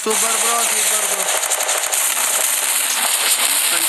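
Rapid gunfire bursts from a shooting video game during a competitive team match, dense crackling shots filling the clip loudly with a voice talking over them.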